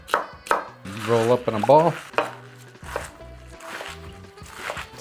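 A knife chops quickly through the tough bottom stems of a bunch of kale on a cutting board, giving a few sharp, close cuts scattered between stretches of talking.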